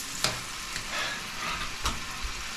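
Chicken adobo sizzles and fries in a pan while being stirred, a close, steady crackle broken by a few sharp scraping clicks of the utensil.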